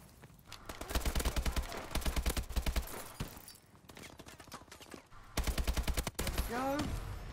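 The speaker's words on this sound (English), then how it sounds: "Oh god, I'm getting shot at." Gunfire rattles through a first-person shooter video game, several bursts of rapid automatic shots in an uneven rhythm, loud and close, with a voice talking between them.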